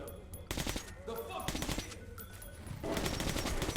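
Enemy automatic weapons in Metro: Last Light fire in sustained loud bursts, rattling almost continuously and closely under a voice talking.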